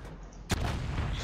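A single tank gun shot in World of Tanks, one sharp broadband boom halfway through over a steady low rumble of engine and battle noise.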